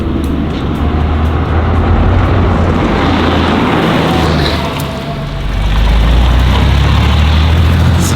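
A historic competition Porsche 911 races along a tree line, its engine a loud sustained roar that dips briefly midway before surging back, heard close and alone.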